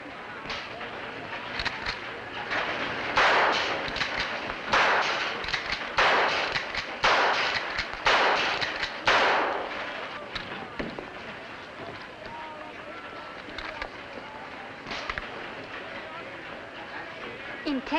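Target shooting with guns produces a series of sharp, moderately loud shots in irregular bursts, with voices talking between and over them.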